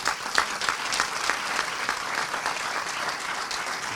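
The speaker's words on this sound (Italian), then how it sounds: "è il momento di accogliere con un grande applauso" An audience at a documentary film festival's opening night gives a film director a warm welcome of steady applause, with sharp individual claps standing out, close and unbroken.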